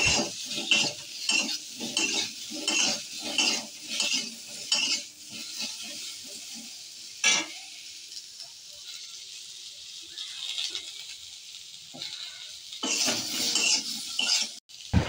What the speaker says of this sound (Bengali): তারপরে নুন হলুদ দিয়ে আলুটা ভেজে নেব।